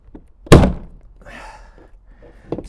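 A kayak fitting is forced into its slot with a single hard, hollow thunk, preceded by faint handling noises and followed by quieter plastic scraping and a softer knock.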